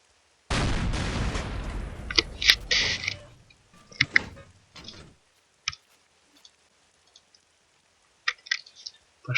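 Gunfire in the video game В тылу врага: Диверсанты 2 begins with one loud, booming shot and a long decaying echo, followed by scattered faint clicks and rattles.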